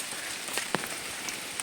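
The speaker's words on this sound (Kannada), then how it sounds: "ಅಷ್ಟೊತ್ತಿಗಾಗಲೇ ಕರೆಕ್ಟಾಗಿ ಮಳೆ ಕೂಡ ಸ್ಟಾರ್ಟ್ ಆಯಿತು ಸ್ನೇಹಿತರೆ" Rain falls steadily nearby as a soft, continuous hiss, with a few sharper drops tapping out above it and no voices.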